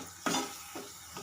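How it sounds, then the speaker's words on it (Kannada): Curry leaves, asafoetida, cumin and mustard seeds hit hot oil for a South Indian tempering, giving a sharp sizzle at the start and two fainter bursts after it, close and with no voices. "ಒಂದು ಎಸಳಷ್ಟು ಕರಿಬೇವನ್ನು ಹಾಕ್ಕೊಂಡಿದ್ದೀನಿ ಒಗ್ಗರಣೆಗೆ"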